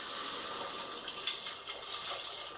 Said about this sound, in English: And then add the stock. I've made a pint of stock.